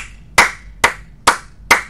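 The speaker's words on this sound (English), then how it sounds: "Let's give the clapping." Four single hand claps, sharp and close, evenly spaced about half a second apart, loud against quiet room background.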